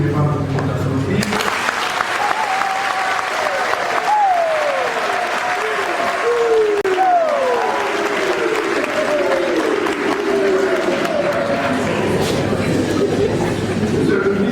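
Students at a university event applauding, a dense, sustained roar of clapping and crowd noise filling the whole stretch, with sliding voice-like tones and cheering layered on top.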